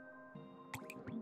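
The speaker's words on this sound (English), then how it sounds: "This happens every time a raindrop hits a puddle." A raindrop strikes a puddle with a few sharp wet plinks and small splashes in a quiet setting, soft and close, over a faint steady hum.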